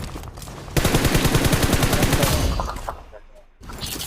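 Rapid bursts of VSS rifle fire in the battle-royale game BGMI fill most of the stretch, loud and dense, with a brief lull before the shooting resumes.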